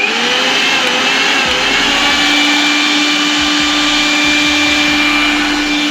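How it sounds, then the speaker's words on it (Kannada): A kitchen mixer grinder running on a 1.2 kVA MPPT solar UPS, a loud, close, steady motor whine and rumble with a constant pitch that holds for the whole stretch. "ಈ ಮಿಕ್ಸಿನ ಆನ್ ಮಾಡ್ತೇನೆ ನೋಡ್ಬೋದು"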